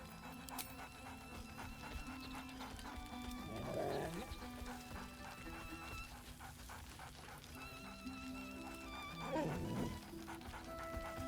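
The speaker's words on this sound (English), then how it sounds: "Scratch barks merrily in something like agreement." Scratch, a dog in the video game Baldur's Gate 3, gives two short cheerful bark bursts a few seconds apart over steady game music and ambience.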